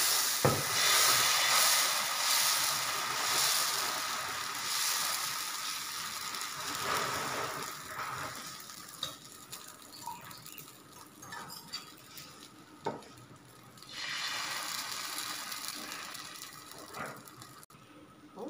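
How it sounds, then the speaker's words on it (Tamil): Balloon vine leaf dosa cooking on a hot dosa plate, a loud hiss at first that eases into softer sizzling, with occasional metal scrapes and clinks before the hiss swells again near the end. "இப்போது தோசை பிளேட் நல்லா சூடாயிடுச்சு தோசை வறுத்துடலாம்"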